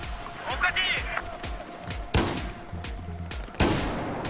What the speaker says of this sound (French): Allez, on tente le pompe